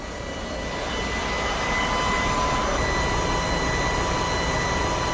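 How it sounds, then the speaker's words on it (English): A vacuum blower machine in Farming Simulator 19 switched on and running, swelling to a loud, steady, jet-like whine with a constant high tone that holds to the end. "It's probably that vacuum blower we got."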